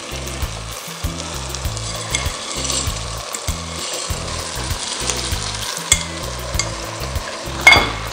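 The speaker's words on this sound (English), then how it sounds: "So I stir." Rice is stirred into a sizzling jollof tomato and pepper base, the spoon scraping the pot in a regular rhythm over a steady frying hiss, close and fairly loud, with no speech.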